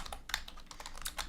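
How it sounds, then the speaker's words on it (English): Typing a simple message on a computer keyboard, an office setup for sending an email, with a steady run of quick, close key clicks and no talking. "just type it in just like they're typing a regular email"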